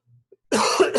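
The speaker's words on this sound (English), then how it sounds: "I apologize for my cough today." A single short, sharp human cough bursts out close and loud after a moment of near silence, with a faint brief sound just before it.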